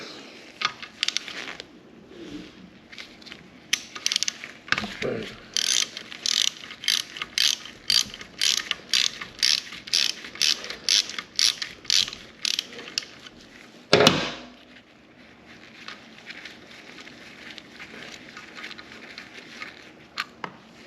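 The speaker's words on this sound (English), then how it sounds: "We'll take our 17mm socket." A ratchet with a 17mm socket works the oil drain plug of a Honda CRF125F dirt bike, giving close, rapid bursts of clicking in a steady rhythm, broken by a single heavier clunk near the end.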